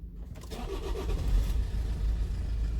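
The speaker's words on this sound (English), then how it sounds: "I'm going to start the engine." Toyota Corolla Verso 2.2 diesel (2AD-FTV) engine cranking and catching, then settling into a steady close rumble with a slight rev, no talk over it.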